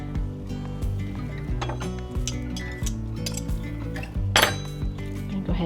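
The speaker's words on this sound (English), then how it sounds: "I've got 2 little pieces that I'm going to go ahead and use our garlic mincer to get minced in" A metal garlic mincer crushes small peeled pieces of ginger for homemade chicken ramen, giving repeated close clinks and metallic clicks over steady background music.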